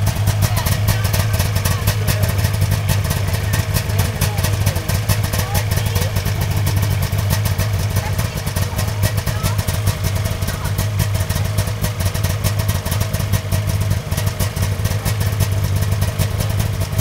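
Snowmobile engine running steadily throughout at close range, a loud continuous low rumble with rattly clatter on top, lasting the whole stretch without letting up.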